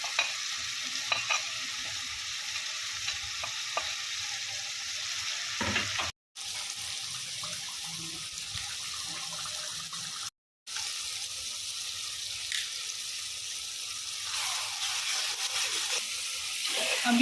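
Salt, red chilli and turmeric spices fry in a pan for an okra dish, a steady close sizzle with scraping stirs and clinks throughout, broken by two brief silent cuts.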